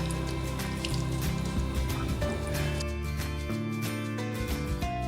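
Water sprinkled onto poha in a bowl and worked in by hand for crispy poha potato balls, giving a close, continuous wet squelching and dripping with soft splashes, alone without talk.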